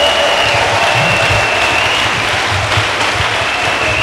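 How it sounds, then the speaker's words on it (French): A congregation at a church service claps for Jesus Christ: sustained, loud, dense applause from a large crowd fills the whole stretch at an even level. "Let us clap for the Lord Jesus Christ."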